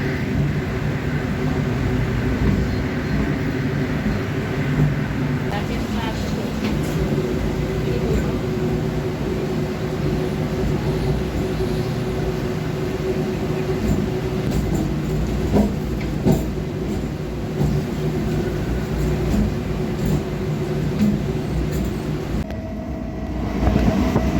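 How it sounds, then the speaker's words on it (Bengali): A train rumbles along the rails continuously, with a low steady roar and faint rhythmic clatter heard from inside a carriage. "ট্রেন ছেড়ে দিয়েছে।"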